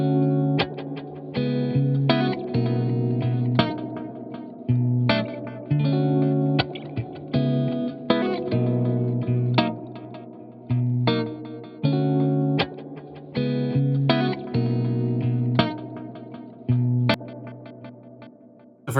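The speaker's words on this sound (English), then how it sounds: "the spring reverb that's built into the unit gets activated" Arturia Delay Tape-201 tape delay plugin with its built-in spring reverb engaged, processing a repeating distorted musical phrase in steady rhythmic bursts with a metallic, splashy reverberant tail, no voices.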